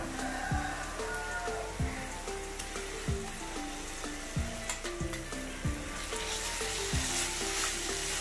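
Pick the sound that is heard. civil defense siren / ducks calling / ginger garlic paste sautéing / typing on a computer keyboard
ginger garlic paste sautéing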